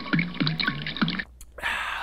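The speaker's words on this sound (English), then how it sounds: "Let me take a quick drink from my water." Water is drunk from a reusable bottle in a lab, three or four close, wet gulps with a falling glug, then a brief pause and a softer rush of liquid.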